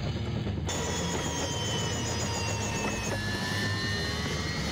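A helicopter in the video game SimCopter flies with a constant loud engine whine and drone, with shifting high tones as the pitch slides, and no talking.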